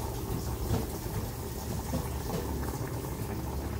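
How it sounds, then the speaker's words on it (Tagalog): A pot of water boils steadily, a continuous close bubbling and rushing hiss with no talking. "kumukulo na siya"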